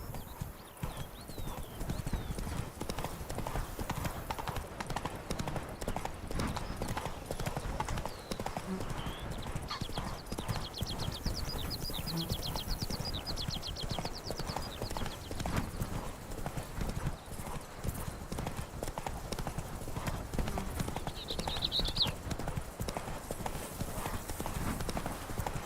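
Roach, a horse in a video game, gallops with a rapid, continuous clip-clop of hooves. Occasional whinnies rise over the steady thudding rhythm.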